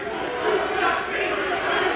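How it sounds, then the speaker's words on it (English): A wrestling arena crowd at a women's extreme wrestling title match roars and shouts in a dense, sustained wall of voices, loud and unbroken throughout. "The crowd taking a little too much enjoyment in telling her."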